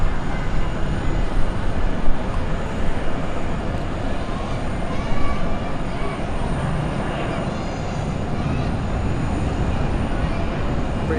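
A British Airways jet at Zurich Airport gives off a broad, steady engine roar that holds at a constant level without pause, with distant ambient noise mixed in.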